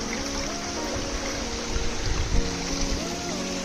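Water from the Thalaiyanai falls runs past as a stream in a broad, steady rush and trickle. It stays close and continuous, with a faint tonal hum running underneath.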